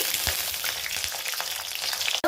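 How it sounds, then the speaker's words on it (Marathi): Okra sautéing in a generous amount of hot oil, a dense, continuous close-up sizzle with faint crackles and a few soft stirring knocks, briefly dipping near the end. "तर इथे मी भेंडी परतून घेतली आहे आणि तेल थोडंसं जास्त घेतलं"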